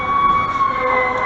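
A fire truck siren wails along a street, a steady sustained tone over the rumble of traffic, loud and continuous.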